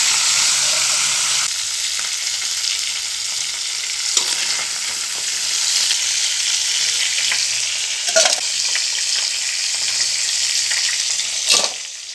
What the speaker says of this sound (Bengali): এখন কাঁকড়াগুলো ভাজবো